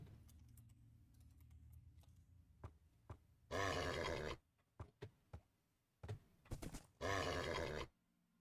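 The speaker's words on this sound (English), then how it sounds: "I'm going to tame this horse." Horse neighing in Minecraft while being tamed: two loud, drawn-out whinnies separated by a few seconds, with computer keyboard typing and clicks around them and no talking.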